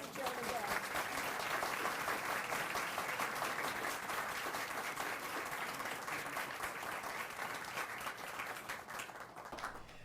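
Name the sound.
audience applause at gala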